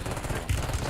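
Rapid automatic gunfire in an online shooter game, dense and continuous for the full second, loud and close with no talk over it.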